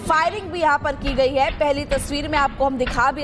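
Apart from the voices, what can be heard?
No distinct noise like a dog, phone or traffic.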